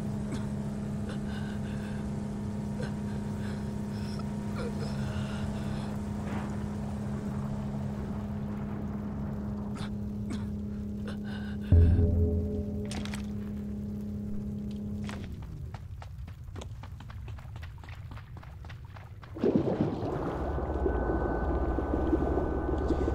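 Vehicle driving in the Ring of Elysium video game, a steady engine drone running loud and continuous, breaking off briefly with clatter before the motor surges back up again.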